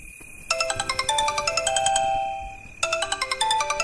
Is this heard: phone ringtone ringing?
yes